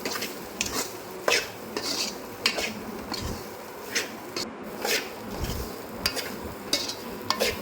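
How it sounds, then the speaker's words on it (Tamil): A drumstick-leaf stir-fry being stirred in a pan: continuous scraping and clattering of a spatula against metal over a soft sizzle, with irregular, close, busy strokes throughout and no talk. "இப்போ எல்லாத்தையுமே சேர்த்து நல்லா கிளறி விட்டுக்கோங்க"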